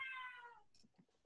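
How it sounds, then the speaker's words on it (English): A cat gives a single drawn-out meow that fades away, quiet and slightly distant, followed by faint rustling. "there was a cat, maybe you can hear it."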